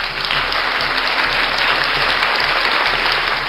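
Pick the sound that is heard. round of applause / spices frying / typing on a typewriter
round of applause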